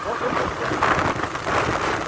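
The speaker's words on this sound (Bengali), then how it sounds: "বাতাস, প্রচুর বাতাস" Strong wind blowing through Madhupur forest in Tangail on a wet, rainy day, a steady broadband roar buffeting close to the microphone throughout.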